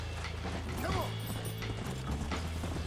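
Hooves of a horse in the Red Dead Redemption game clip-clop in a steady rhythm alongside music and ambient game sound, close and moderately loud.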